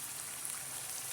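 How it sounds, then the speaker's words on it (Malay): Plain water is poured into spice paste frying in a pan for Nyonya laksa, giving a brief, steady hissing sizzle, close and even. "Kita masukkan plain water sikit, air biasa sikit,"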